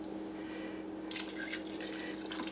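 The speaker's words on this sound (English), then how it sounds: "4 cups of beef broth" Beef broth pours into a large, full Dutch oven of Mexican cheese soup, a soft liquid splashing and trickling that starts partway through over a low steady hum, no talking.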